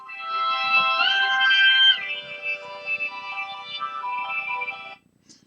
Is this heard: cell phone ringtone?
yes